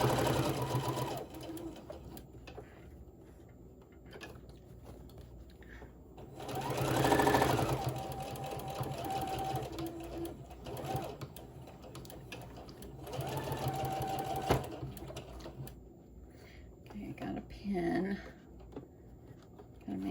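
A sewing machine stitches fabric seams on bowl koozies, its motor running in several bursts, steady and close, with pauses in between and a person talking quietly over parts of it.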